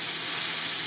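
Garlic, corn, black beans and onions sauté in a pan, giving a brief, steady broadband sizzle and hiss with no voices.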